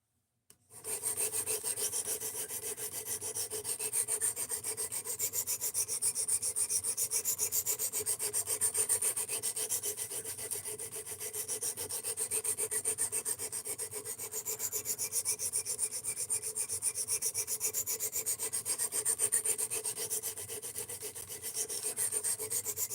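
The S90V steel blade of a Benchmade Mini Bedlam knife is worked on a sharpener. Quick, even strokes produce a continuous fine rasping that is close and moderately quiet, with no voices.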